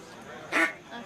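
A single short, nasal quack from a duck call, blown by a person to imitate a lonesome hen mallard, sounds up close against quiet background, followed by a softer trailing note.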